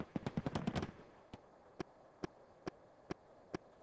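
Fireworks go off in a rapid crackling flurry of sharp bangs, then single pops follow at roughly even half-second intervals, sounding moderately distant against a quiet background.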